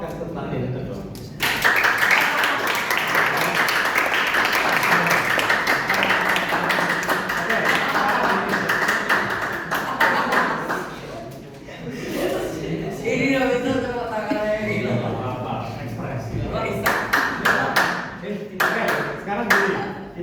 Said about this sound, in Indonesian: Yang ngasih support kasih tepuk tangan ya dong.